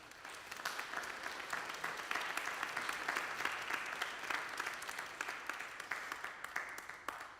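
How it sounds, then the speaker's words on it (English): A church congregation applauds during a Sunday service, steady sustained clapping from many hands filling the room for the full length, moderately loud with scattered sharper claps standing out. "let's give them a round of applause"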